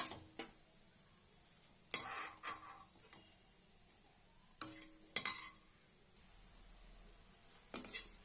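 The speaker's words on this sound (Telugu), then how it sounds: "ఇలాగా బ్రౌన్ కలర్ వచ్చే వరకు వేయించుకొని పక్క తీసుకుందాం" Bread pieces frying in a pan until brown for bread halwa: quiet, scattered bursts of spatula scraping and clinking, a few quick clusters separated by near-silent gaps.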